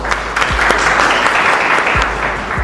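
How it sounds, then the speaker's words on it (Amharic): Loud, steady applause from an audience of trainees at a sales masterclass, dense clapping filling the whole stretch without a pause. "እሺ አጨብጭቡለት።"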